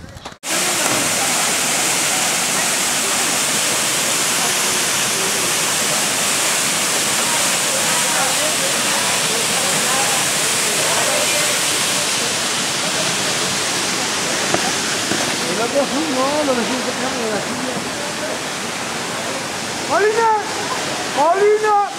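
A waterfall roars in a constant, loud, full-bodied wash of falling water throughout, with voices rising faintly over it near the end.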